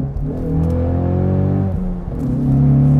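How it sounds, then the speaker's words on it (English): A 2023 Ford Mustang EcoBoost High Performance Pack convertible with optional valved exhaust downshifts nearby, its loud engine note rising and holding, briefly dipping, then climbing again in a strong rev. "I'm gonna downshift because we do have the optional valved exhaust"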